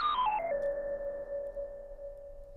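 A short modular synth audio loop is played back tuned down on an Ableton Push 2. It is a quick descending run of pure electronic tones settling onto a sustained, ringing lower note, fairly faint.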